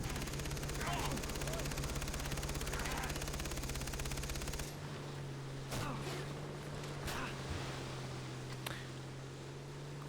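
Gunfire in the video game Far Cry 3, several spaced shots cracking over a constant engine drone that drops away midway, with players talking.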